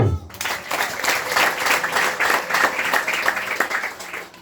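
A church congregation claps together in sustained, lively applause, the dense patter of many hands filling the room for several seconds.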